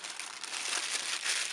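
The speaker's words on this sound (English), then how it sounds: "So remove the plastic and we can see that the camera itself" A plastic bag crinkles and rustles as it is pulled off a new Apeman H45 trail camera, close up and quiet, with a steady soft crackle over a second and a half and no talking.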